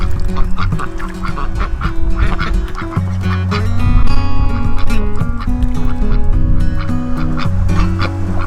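Ducks quack loudly and continuously in a close enclosure, with overlapping honking calls in a dense, rhythmic chorus.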